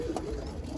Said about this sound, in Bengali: তো এই হচ্ছে এখানকার কবুতরগুলো